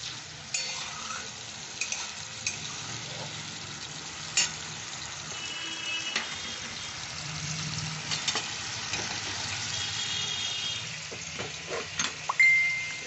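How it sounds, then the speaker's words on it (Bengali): Spice masala sizzling and being stir-fried in a pan for a sweet and sour brinjal dish, a steady close frying hiss broken by repeated scrapes and knocks of a spatula, no one talking. "এই মশলাটা এবার কষতে হবে ভালো করে"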